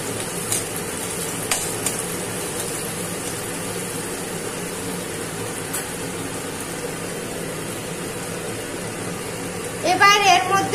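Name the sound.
frying scrambled egg with onion and green chilli in pan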